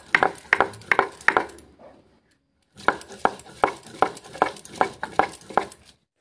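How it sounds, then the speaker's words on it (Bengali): Potato, beans and cauliflower being stir-fried in oil, with a rhythmic series of sharp spatula scrapes and clanks against the pan under a light sizzle, broken by a brief pause, and no talking. "আর এই যে দেখো আলু শিম আর ফুলকপি ভালো করে তেল দিয়ে নেড়ে নিচ্ছি।"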